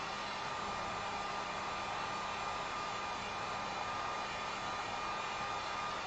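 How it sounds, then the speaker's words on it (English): Heat gun blowing steadily to dry green acrylic paint on a wooden sign, a loud, even, continuous whooshing hum that runs unbroken from start to finish with no voices. "so heat gun again"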